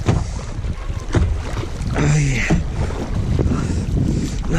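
A kayak being paddled on open water, with steady wind and water rush close to the microphone, soft splashes of paddle strokes, and a brief bit of talk in the middle.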